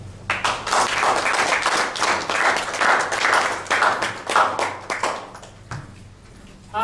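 Crowd applause at an annual cultural showcase, many hands clapping steadily for several seconds at close range before fading out into quiet.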